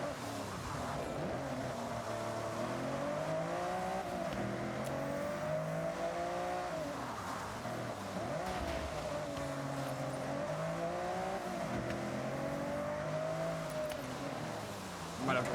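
Race car engines in a Forza Horizon racing game drone and rev continuously, with rising and falling pitch sweeps as gears shift, loud and steady throughout the run.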